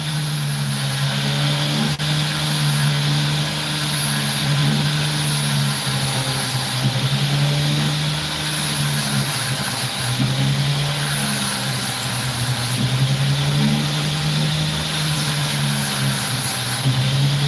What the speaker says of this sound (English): The drill speed, this is at its lowest setting